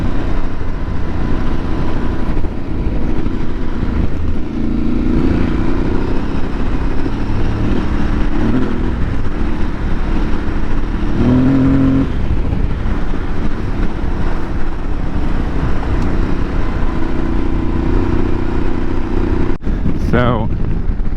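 Steady loud engine drone and wind rush from an Aprilia Tuareg 660 ridden offroad along tracks, with a rider talking over it and a sharp knock near the end.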